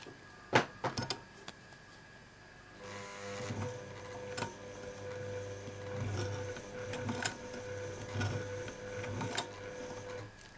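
Vintage Singer 66k sewing machine locking a stitch in heavy-duty thread, starting with a few close mechanical clicks, then a steady whirring, rhythmic clatter of the needle mechanism with a constant motor hum and repeated knocks.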